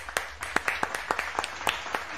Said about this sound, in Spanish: ¿no? Aplausos. Un aplauso.